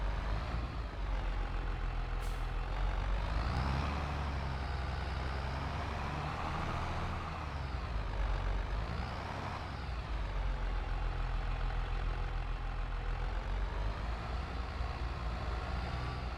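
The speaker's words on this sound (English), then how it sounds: "Despite its size, this tractor is very nimble." A big tractor engine drives steadily in the Court Farm Country Park farming game, a continuous low rumble with a brief high hiss near the start and no talk.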